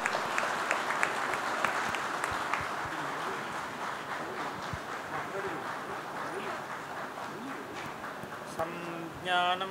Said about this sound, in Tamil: நல்ல பலத்த கரகோஷம்.